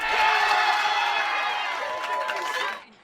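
Crowd at an Olympic swimming race cheering loudly in a sustained roar of voices and whoops, fading out abruptly near the end.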